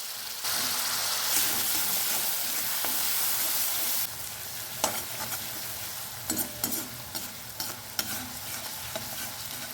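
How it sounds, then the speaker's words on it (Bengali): Chopped onion frying in ghee, with a steady close sizzle at first that gives way to intermittent stirring scrapes and clinks against the pan, no voices present. "এবার একটা কোচানো পেঁয়াজ ভালো করে ভেজে নিচ্ছি।"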